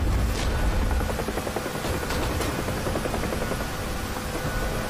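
A helicopter in the DCS World combat flight game roars steadily with loud rotor and engine noise, with faint booms and impacts mixed into the constant drone.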